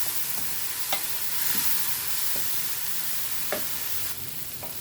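Spicy potatoes with squeezed lemon sizzle steadily in a frying pan over a gas flame, with a few soft scrapes and taps of a spoon stirring them, close and continuous without speech.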